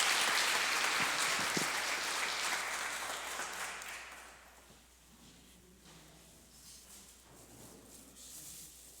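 A church congregation claps hands joyfully at a family worship service, a loud dense burst of applause that fades away after a few seconds into quieter room sound.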